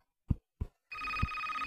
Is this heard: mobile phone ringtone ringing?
yes